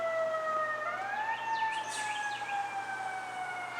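An ambulance siren wails steadily at moderate distance, its tone sweeping up and holding in a continuous rising-and-falling pattern, with faint bird chirps and no talking over it.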